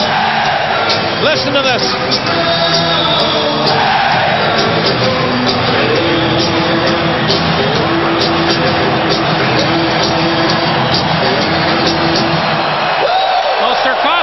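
Hockey arena crowd roaring during a playoff game between the New York Islanders and Toronto Maple Leafs, a loud, continuous wall of cheering that persists throughout, with a commentator speaking over it.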